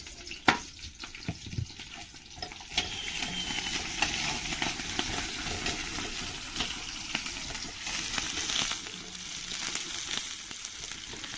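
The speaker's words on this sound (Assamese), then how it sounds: "তেল উতলি আছে, উপঙি মাৰিলা।" Home-made fried rice frying in boiling oil in a pan, giving a steady, fairly loud sizzle with crackling and spitting throughout, a few sharper pops near the start, and no voices.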